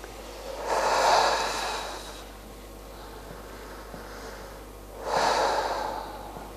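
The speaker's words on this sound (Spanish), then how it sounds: "llevamos la atención al pecho y hacemos la respiración" Deep breathing during a breathing exercise: two long, full breaths several seconds apart, each a loud airy rush filling and emptying the chest, with quiet room tone between and no speech.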